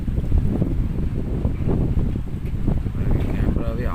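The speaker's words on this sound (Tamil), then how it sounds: "ஆனால் செம்ம காற்று கைஸ்" Strong wind gusting across a trekking campsite under a clear sky, a steady broadband roar buffeting the microphone throughout, with someone speaking over it.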